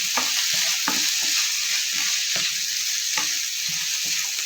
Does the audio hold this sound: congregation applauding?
no